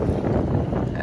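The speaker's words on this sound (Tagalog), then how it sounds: "Medyo may kalakasan po yung hangin dito ngayon, no, sa mga oras na ito." Strong seaside wind at Dolomite Beach before rain buffets the microphone in a loud, continuous low roar, steady and unbroken, with faint surf-like noise mixed in.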